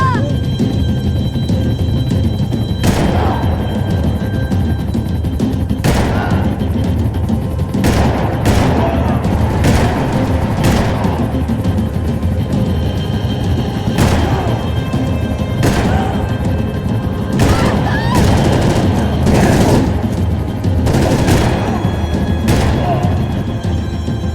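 Max Payne 3 firefight with sharp, repeated gunshots cracking at irregular intervals over a steady, loud background rumble of engine and action noise.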